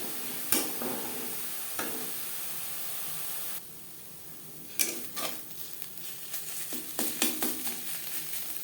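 Ghatkol (arum) leaf paste fries in a wok over a gas flame turned low, giving a soft, steady sizzle broken by sharp scrapes and clacks as a spatula stirs and scrapes the pan.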